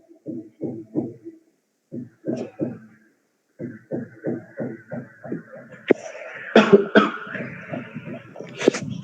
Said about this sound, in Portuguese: Deixa eu só tossir aqui.